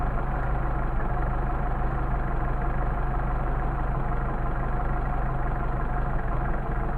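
A Mercedes 190SL engine on Solex carburetors idles steadily and evenly, a constant low rumble with no revving, close and alone for the whole stretch.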